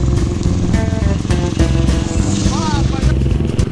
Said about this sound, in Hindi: बारिश में भी बाइक का सफ़र अलग ही मज़ा देता है, हल्की हल्की बूंदाबांदी और हवा।